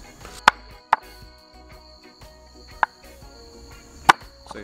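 Pork for jerk pork is chopped outdoors, a few sharp, sparse knife or cleaver thuds spaced irregularly over quiet background with faint insect chirping.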